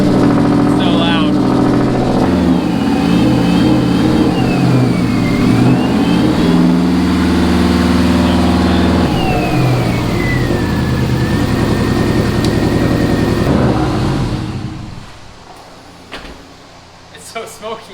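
A Subaru EJ205 car engine revs hard through a loud, raspy exhaust, rising and falling close by, with talking over it before the roar drops away near the end.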